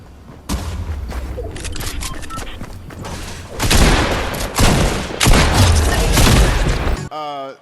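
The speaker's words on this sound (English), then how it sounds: "They're still shooting." Gunfire in the video game Fortnite, with dense rapid bursts of shots and booms, loud and close, continuing in waves and ending in a short electronic flourish.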